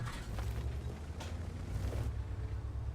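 A tank gun fires in a video game, the M44 in play: a deep, rumbling boom with a roaring low-end tail that carries through the whole short stretch, loud and close with no talk over it.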